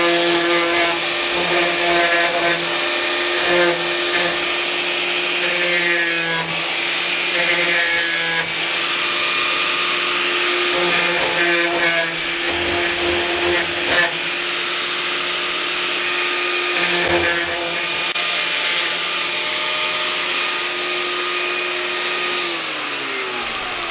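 An angle grinder with a DeWalt wheel smooths sharp cut edges on a bear hunting setup in Nova Scotia, a loud steady whine with rasping, scraping bursts as the wheel meets the metal, running continuously up close.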